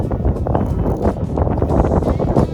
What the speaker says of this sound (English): I can't even talk, it's so windy